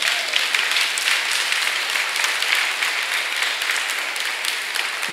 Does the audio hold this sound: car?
no